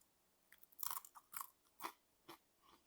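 Close-up crunching of blanched dried pollack dipped in wasabi mayo sauce, a cluster of crisp bites followed by a few slower crunches.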